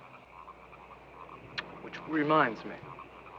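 Frogs croak at night near water, a short burst of rapid, raspy croaks rising over a quiet background, with a brief spoken line during it.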